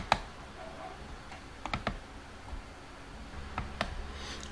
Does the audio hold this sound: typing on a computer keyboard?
yes